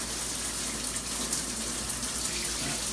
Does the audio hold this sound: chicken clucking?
no